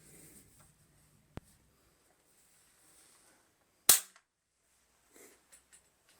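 A German soldier's non-automatic rifle being worked, with a sharp click early on, then a louder close snap like a dry-fired or cap shot, followed by faint small mechanical clicks in a quiet room.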